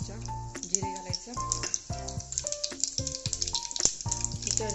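Mustard seeds and cumin crackle and pop in hot oil in a heated pot, sharp irregular spits over a quiet sizzle with tonal sounds in the background.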